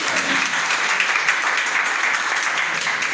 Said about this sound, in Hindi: एक बार जोरदार ताली अपने लिए बजाइए।